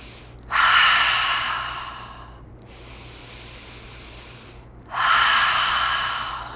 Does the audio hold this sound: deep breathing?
yes